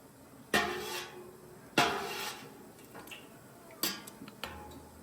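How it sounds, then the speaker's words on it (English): Sliced jalapenos dropped into glass jars, giving a few sharp clinks and taps spaced about a second apart, fairly close and quiet, with no talking. "We're going to put the jalapenos in the jars without the brine at first."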